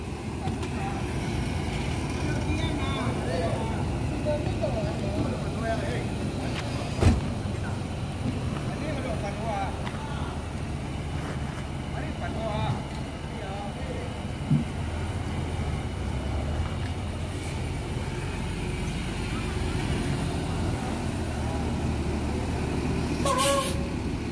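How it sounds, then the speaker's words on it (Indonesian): A new bus with a Patriot body, a Mercedes-Benz OH1626 engine and air suspension idles at a bus terminal with a steady, loud diesel rumble, punctuated by a few sharp air-brake or air-suspension hisses. "Bodi Patriot, mesin Mercedes-Benz OH1626 dengan air suspensi."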